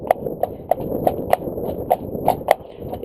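Hooves of a ridden horse clip-clop on a hard surface, roughly three even strikes per second, near and clear over low background noise, with faint talk underneath.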